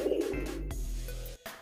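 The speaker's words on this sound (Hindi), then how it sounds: "किस कदर खूबसूरत देवबंदी कबूतर हैं, सफ़ेद आँख के।" Deobandi pigeons with white eyes coo at a pigeon market, a low soft cooing close by over a steady murmur of background noise.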